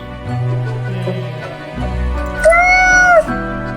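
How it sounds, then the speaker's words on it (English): A cat in a video game mews once, a drawn-out rising-and-falling meow heard clearly and loudly over a low, sustained droning background tone. "The cat mews."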